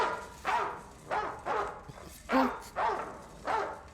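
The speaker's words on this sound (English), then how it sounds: "The dog's barking frightened you, huh?" A dog barks outside in a series of six sharp, evenly spaced woofs. Each is moderately loud and slightly distant, with quiet pauses between them.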